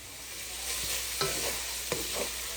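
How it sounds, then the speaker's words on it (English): Ground beef browns in a pan for enchiladas, a close steady sizzle broken by a few sharp scraping stirs of a utensil; no voices. "So I'm going to start out by cooking my beef."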